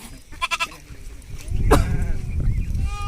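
Sheep bleat in a short run of quavering calls at a nomadic herders' grazing site, heard close and fairly loud, and a voice is faintly present in the background.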